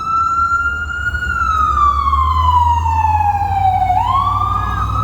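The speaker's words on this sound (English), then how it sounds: "Ambulance." A loud ambulance siren wails close by, its pitch sliding slowly downward before rising again, over a low rumbling engine.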